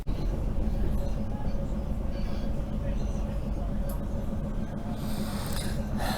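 Passenger train pulling out of Belgrade toward Novi Beograd, a steady loud low rumble and rattle of the carriage heard from inside, running continuously under a voice talking.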